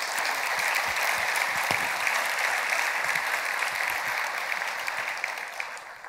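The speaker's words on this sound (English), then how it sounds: "Let's give them a round of applause" Conference audience at Git Merge 2017 applauding the GitHub team, a loud, dense wash of many hands clapping that holds steady and then tapers off slightly toward the end, with no speech over it.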